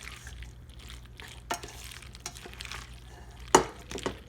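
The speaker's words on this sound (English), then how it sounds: "Okay, I'm going to stir my macaroni up. Get all that cheese mix together." Macaroni being stirred together with cheese mix in a pot, a soft continuous scraping with a few sharper utensil knocks against the side, close and fairly quiet, no talking.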